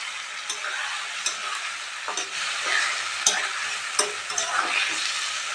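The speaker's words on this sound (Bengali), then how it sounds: "আলুটা পেঁয়াজটা ভাজা হয়ে গেছে, এবার সব মশলা দিয়ে ভালো করে কষে নিতে হবে।" Potato and onion stir-fried with spices in oil for a Bengali rui fish tel jhal, giving a steady close sizzle broken by sharp scraping strokes of the spatula against the pan.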